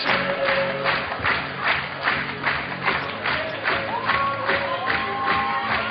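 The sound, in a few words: crowd cheering at a climbing World Cup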